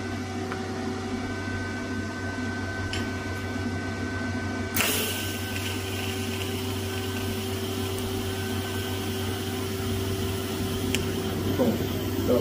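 A steady electrical hum from an ArcCaptain TIG 205 Pro welder idles, then a bright, hissing buzz of the arc starts abruptly as a part is tack welded and carries on evenly at close range.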